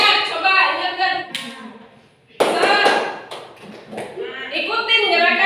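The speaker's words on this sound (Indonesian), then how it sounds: "Ayo dong yang semangat. Tepuk semangat." Classroom students doing a rhythmic spirit clap, bursts of loud group clapping mixed with shouting voices, broken by a short quiet pause before the clapping and chatter resume.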